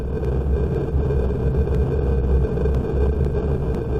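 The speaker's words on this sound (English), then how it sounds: "But what you heard there was cosmic background radiation," Cosmic background radiation picked up by a radio telescope, rendered as steady, dense white-noise hiss with a low rumble and faint regular ticks, unchanging throughout.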